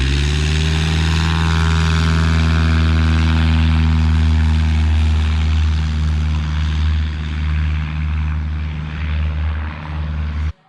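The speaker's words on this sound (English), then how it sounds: "You guys probably just saw some airplanes" Propeller airplanes fly overhead near an airfield, a loud, steady droning engine roar with strong low tones that holds for about ten seconds and then eases slightly, with no voices.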